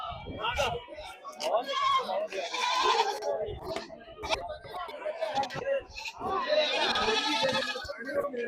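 Sheep and goats bleat repeatedly at a large livestock market for goats, sheep and poultry in Maharashtra, loud, close calls rising over a steady murmur of crowd chatter and voices throughout.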